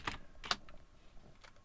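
Fast, uneven typing on a computer keyboard during a livecoding session, with bursts of sharp clicks followed by a few lighter taps, close and fairly quiet, with no voices.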